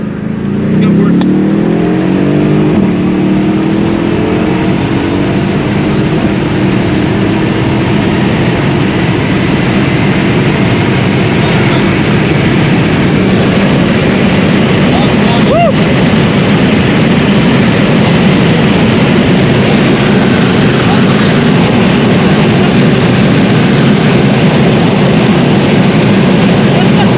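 Twin turbo V8 car accelerating hard, heard from inside as a loud, sustained engine roar with heavy wind and road noise building throughout, voices faintly underneath.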